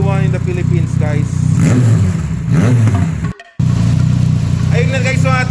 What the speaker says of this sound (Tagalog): so narinig natin yung tunog ng Yamaha Niken